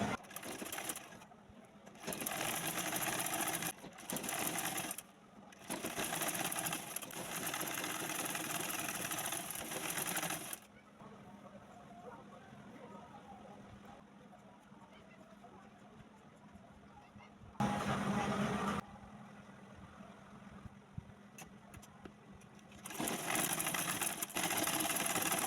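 A sewing machine stitches a piping-style seam on a baby dress, running in loud sustained bursts of whirring that stop and start, with a quieter stretch of faint background noise in between.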